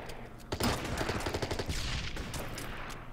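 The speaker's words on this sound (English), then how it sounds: "Let's fire at these guys." Gunfire from the wargame Order of Battle: Pacific, set on Leyte: a dense burst of rapid shots and crackling fusillade lasting a few seconds, fairly loud and close, with no voices over it.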